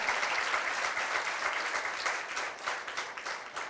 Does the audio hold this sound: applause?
yes